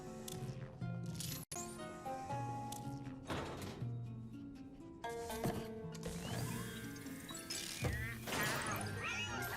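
A cat in the video game Luigi's Mansion 3 meows a few times, mixed into a steady bed of bright game music and effects.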